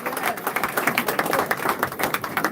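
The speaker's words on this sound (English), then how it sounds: "So let's just give a round of applause for waking up this morning" Crowd applause at a public gathering led by a village mayor, dense continuous clapping from many hands filling the space for a couple of seconds with no talk over it.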